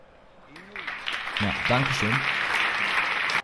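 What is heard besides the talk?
applause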